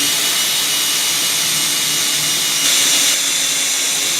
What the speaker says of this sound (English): I've got to drill a few holes here for the petcock